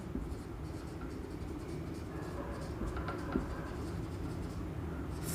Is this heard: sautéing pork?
no